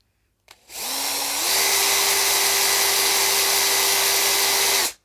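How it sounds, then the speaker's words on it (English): A power drill drilling plastic whirs up loudly and holds a steady high-pitched whine for about four seconds, then cuts off abruptly. "So I'll drill it out now."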